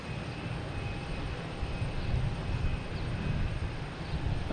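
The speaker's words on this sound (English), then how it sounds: "That was a United Airlines coming in from San Francisco. It just passed in front of the screen here." A United Airlines airliner arriving from San Francisco passes by at Boston Logan Airport, a steady broadband engine roar that swells slightly toward the middle and stays loud throughout, with some wind noise and no talking.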